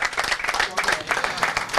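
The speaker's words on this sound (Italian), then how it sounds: "un applauso anche per lui" An audience at a Gabicce Gradara football club season presentation applauds a local councillor, a brief burst of close, rhythmic clapping with some voices mixed in.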